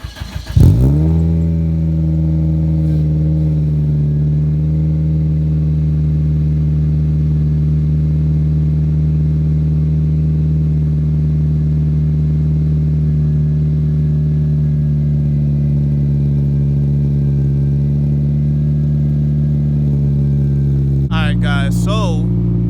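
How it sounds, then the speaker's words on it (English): A 2019 Ford Mustang GT Premium V8 cold-starts with a sharp crank and rev flare, then settles into a steady, loud, rumbling high idle for about twenty seconds before a brief change near the end. "let me get y'all a cold start real quick."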